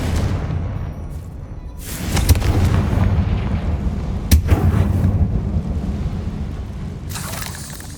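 Confringo blasting spells exploding in the Hogwarts Legacy video game, deep booming blasts with sharp cracks arriving in bursts over a rumbling background.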